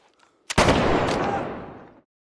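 A single loud gunshot booms out and rolls into a long echoing rumble that fades over about a second and a half.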